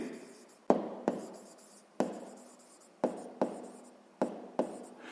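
Pen or marker writing numbers by hand during a sixth-grade math lesson, a series of sharp, close tapping and scratching strokes at an uneven rhythm, with quiet hiss between them and no talk.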